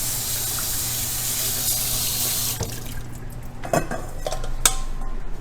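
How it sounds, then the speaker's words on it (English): Whole okra rinsed in a small colander under a running kitchen tap, a steady hiss of flowing water that thins out, then a few light clinks and knocks as the colander is moved. "I always like to put them in a little colander and just kind of rinse them under the water"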